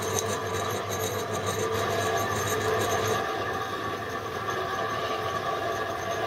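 A homemade Gingery milling machine spindle turning at low speed, about 83 to 86 RPM, on a four-pulley belt drive in low range, giving a steady mechanical hum and rumble with a whirring drone that continues throughout.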